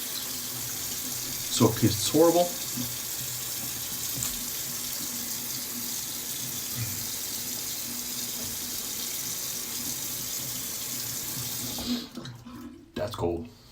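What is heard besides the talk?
cold water running from a tap for shave rinse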